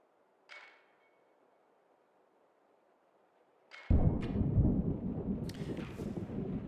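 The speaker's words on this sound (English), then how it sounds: "The sound of the loudest thunderclap jerks you out of your slumber." A loud thunderclap in the Rue Valley video game suddenly bursts in after near silence, followed by a sustained heavy rumble. A faint earlier thud and a few sharp clicks stand out above it.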